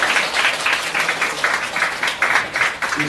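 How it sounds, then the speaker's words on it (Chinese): Audience applause at a sunscreen product talk in an education centre hall, a steady burst of many hands clapping for about three seconds, fairly loud and continuous with a faint voice under it. "我们掌声谢谢于贤姐"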